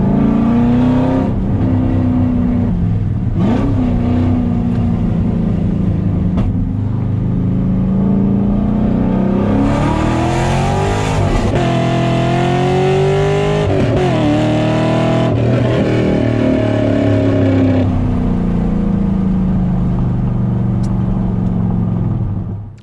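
A deep LS V8 exhaust on a Gen 5 Camaro SS burbles at idle, then revs up repeatedly in loud, rising blips before settling back to a heavy rumble, close up and continuous.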